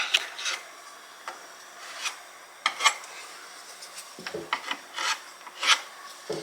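Spatula smoothing a sealant finish while installing a kitchen hood, irregular scraping and rubbing strokes, close and fairly loud, with short pauses between passes.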